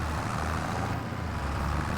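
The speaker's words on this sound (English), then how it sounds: "You're the tiny tractor." A small tractor engine idles steadily in Farming Simulator 25, a continuous low rumble at an even level with no voices.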